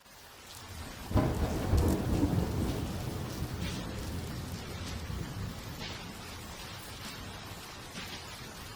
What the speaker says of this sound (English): Even the drizzle that clung to the city's grimy cobblestones felt a shade darker than your everyday downpour.